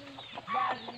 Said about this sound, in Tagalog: marami si amang alagang manok dito sa bukid.